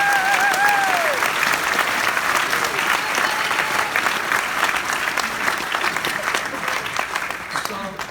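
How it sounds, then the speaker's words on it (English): Audience applause fills a church service, a broad steady wash of clapping that tails off slightly toward the end, with a voice briefly audible over it at the start. "don't you guys applaud and tell them thank you for"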